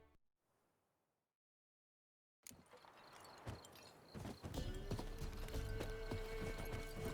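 The horse Roach trotting in The Witcher 3, a steady run of hooves clip-clopping close by after a short quiet stretch, with ambient game sound underneath and no talk.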